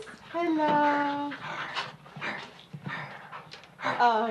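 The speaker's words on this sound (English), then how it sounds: "Oh, these cute puppies." Puppies whimper with high thin whines and pant in short breathy bursts, close by, while a person coos at them in an indoor family setting at Christmas.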